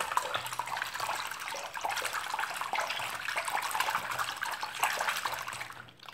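A dish cloth is put to soak in a basin of water mixed with bluing, giving a steady close sloshing, splashing wash of water that carries on throughout without speech.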